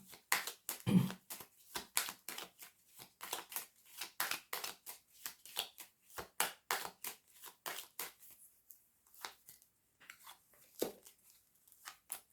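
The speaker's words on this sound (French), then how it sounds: "alors, je vais recouvrir ces deux cartes-là" Tarot cards being laid over other cards on a table: a quick run of crisp paper slaps and soft clicks, close and fairly quiet, with no voices.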